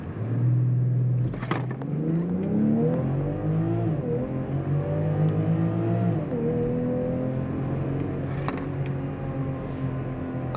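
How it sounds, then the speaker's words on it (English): A 2022 BMW X5 xDrive40i inline-six engine pulls hard from inside the cabin, its tone climbing steadily through a gear, easing after a shift, then rising again, with a couple of sharp clicks along the way. "And that inline 6 makes a beautiful, beautiful sound."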